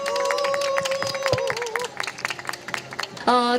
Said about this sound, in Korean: 두 분 이상희님과 윤유선님께 다시 한번 박수 부탁드리겠습니다